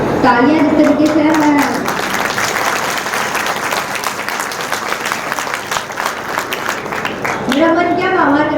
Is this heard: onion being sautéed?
no